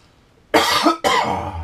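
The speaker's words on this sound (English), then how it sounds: "I can't get rid of this cough." Two harsh coughs in quick succession, loud and close, with a brief pause between them.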